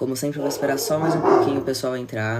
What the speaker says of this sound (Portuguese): Já peço desculpas pelos meus cachorros, que eles ficam latindo bastante.